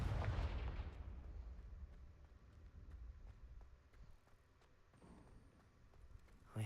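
A Confringo fire-blast spell bursts with a loud booming explosion at the start in Hogwarts Legacy, then rumbles away into a quiet stretch of faint scattered clicks and steps, with another sharp thump at the very end.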